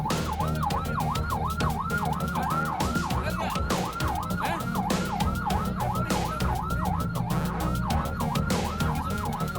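An ambulance siren wails in a rapid, continuous up-and-down cycle as it tries to get through jammed traffic, loud and close over a low rumble of vehicle engines.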